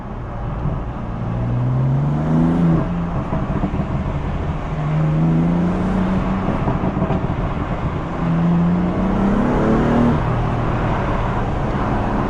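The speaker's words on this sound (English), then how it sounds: "Let's give you guys a bit of pops and bangs." Stage 1 BMW M4 driven through a tunnel, a loud, continuous engine drone with rising and falling revs heard from inside the car, steady and close throughout.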